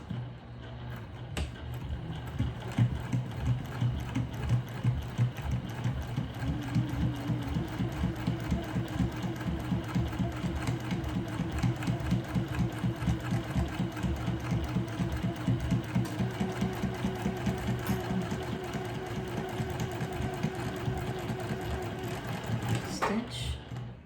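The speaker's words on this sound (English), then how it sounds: "Okay, we're going to stitch." A sewing machine stitches a seam across clear vinyl for a pouch, a steady rapid mechanical chatter running nearly the whole time at moderate level, with a motor hum underneath.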